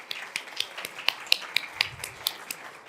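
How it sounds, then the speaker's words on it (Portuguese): Thin, faint applause at a conference panel, a few hands clapping in quick sharp claps at a fairly even rhythm for a few seconds. "Uma salva de palmas."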